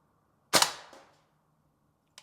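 A Tokyo Marui AKM gas blowback airsoft rifle fires a single semi-auto shot of a 0.2 g plastic BB, a sharp loud crack with a short decaying tail. A faint second pop follows about two seconds later.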